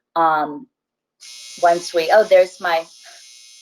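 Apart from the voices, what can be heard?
laundry machine buzzer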